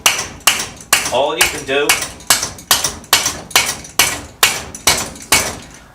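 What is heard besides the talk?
rubber hammer tapping metal parts loose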